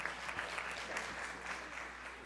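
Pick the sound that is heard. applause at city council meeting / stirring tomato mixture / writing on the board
applause at city council meeting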